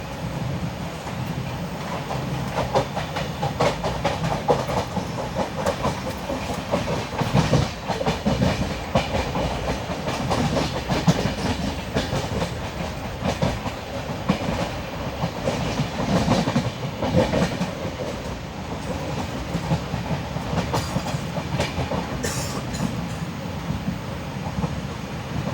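A Duronto Express sleeper-class train running on the Konkan Railway, its wheels beating a steady clickety-clack over the rail joints with a continuous rumble and wind noise throughout.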